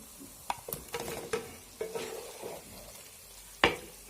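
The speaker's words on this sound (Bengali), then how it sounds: "ভালোভাবে নেড়েচেড়ে মশলার সাথে মিশিয়ে নেব।" Fried potatoes and boiled eggs being stirred into a cooked spice masala for egg biryani, with scraping spoon strokes over a soft sizzle and one sharp knock near the end.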